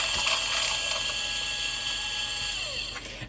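A coffee grinder runs to purge old grounds, a loud steady mechanical whir with a high whine that holds for several seconds and then winds down.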